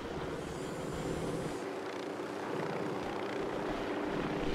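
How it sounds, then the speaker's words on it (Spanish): A helicopter flies overhead in the Ghost Recon Wildlands video game, a steady rotor and engine drone that is fairly close and holds a constant level with a low throb, with no voices present. "Helicóptero, cubríos."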